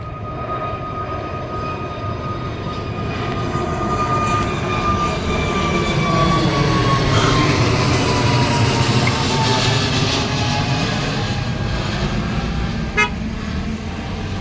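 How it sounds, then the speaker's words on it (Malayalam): IndiGo Airbus A320 airliner at Cochin International Airport, bound for Ahmedabad: a loud, sustained jet engine roar and whine that swells and shifts in pitch as it passes, with a brief tone near the end. "ഇതൊരു IndiGo A320 Cochin to Ahmedabad ആയിരുന്നു."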